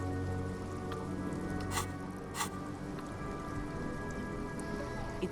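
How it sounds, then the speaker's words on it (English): Rain in the Disco Elysium video game, a steady soft patter of raindrops over a low ambient hum, with two brief louder splashes and no speech. "It's raining again."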